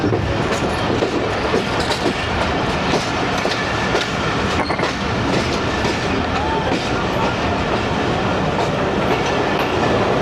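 The 45 Up Pakistan Express, hauled by an HBU20 locomotive, rolls through Jhelum railway station with a loud, continuous rumble of wheels and carriages, close by and unbroken throughout.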